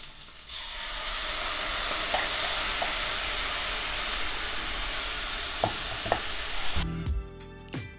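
Tofu simmering with bulgogi sauce in a pan gives a steady, loud broadband sizzle for most of the clip, with a few small pops. Near the end the sizzle cuts out abruptly, leaving clinks and a faint tonal hum.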